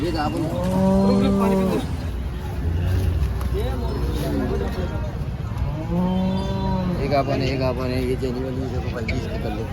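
Cows at a cattle market bellow in long, loud moos, one near the start and another a few seconds later, over a constant hum of crowd chatter and background noise.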